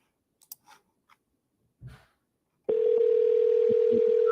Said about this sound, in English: Let's call this person back one more time, see if they pick up the phone